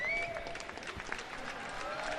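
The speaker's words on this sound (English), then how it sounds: "the crowd here at the Bob Carpenter Center giving Ty Green his due" Basketball crowd at the Bob Carpenter Center applauding a player, a steady wash of clapping and crowd noise with faint voices mixed in, moderately distant and even in level throughout.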